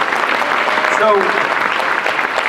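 Audience applause on a social media marketing panel, a brief steady wash of clapping with a voice speaking over it.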